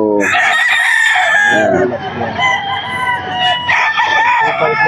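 A Lemon Sweater gamefowl rooster crows loudly and close at a pet market, two drawn-out harmonic calls with a brief pause between, and someone speaks briefly.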